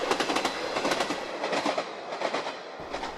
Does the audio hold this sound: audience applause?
no